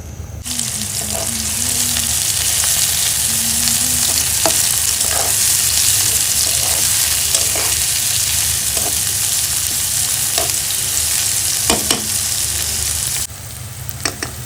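Soybean oil sizzles loudly in a wok, a steady bright hiss with scattered pops and utensil clinks and a faint low hum underneath, running without talk until it drops off near the end.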